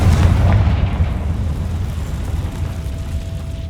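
Confringo blasting spell from Hogwarts Legacy going off as a loud, deep explosive boom at the start, then a sustained rumbling roar that slowly fades, with no voices.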